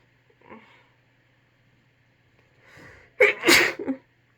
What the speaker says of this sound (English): I'm sensing a sneeze